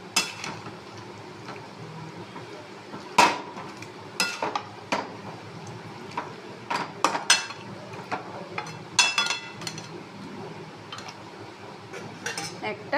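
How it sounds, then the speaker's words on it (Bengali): Chicken masala curry being stirred in a pan with a metal spoon, scraping and clinking against the pan in irregular strokes over a soft steady sizzle, fairly close, with a lid clatter among the strikes. "ভালো করে নেড়ে চেড়ে ঢাকা দিয়ে এটা আরও মিনিট 10 হবে।"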